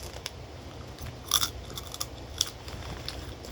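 A fish cracker from Cebu City is bitten and chewed close up, a few crisp crunches standing out over a quiet steady background.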